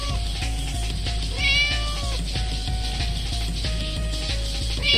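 Cat meowing in a crappy game jam indie game, a couple of short bright meows over a loud looping electronic music track with ticking, mechanical beats, no talk.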